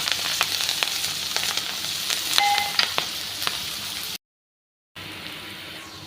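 Cut green chillies sizzle steadily in hot oil with cumin, mustard seeds, turmeric and coriander powder, a close, crackling fry with occasional pops and faint clicks, broken near the end by a short stretch of silence before the sizzle resumes.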